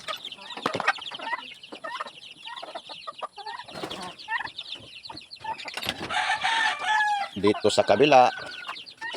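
Chicks and chickens cluck and cheep in a coop, a busy mix of close peeps and clucks, while a voice speaks briefly over them.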